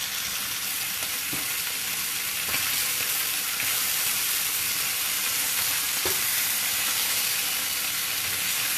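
Chicken breast fries in a hot pan with a loud, steady sizzle and hiss that runs throughout, with occasional faint knocks close by.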